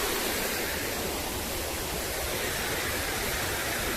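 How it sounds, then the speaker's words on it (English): Water pouring over a river weir on a wooded valley trail: a steady, loud, broadband rushing roar that stays constant throughout, with no voices. "And here's the weir."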